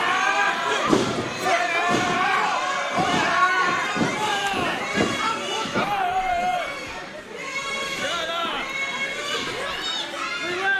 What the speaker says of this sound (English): you hear some of the crowd getting behind Vinny